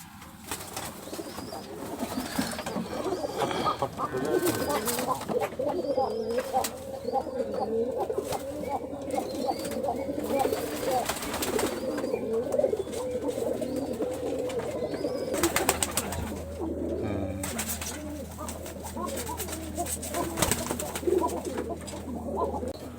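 Pigeons coo steadily at a colourful pigeon farm in Rajshahi housing flying tumbler breeds, the soft repeated cooing close and continuous throughout, with a low hum beneath and occasional faint voices.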